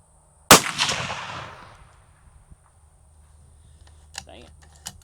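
A single suppressed 6.5 Creedmoor rifle shot fired through a CanCo suppressor outdoors: one sharp, loud crack followed by a rolling echo that fades over about a second and a half. A few faint clicks come afterwards.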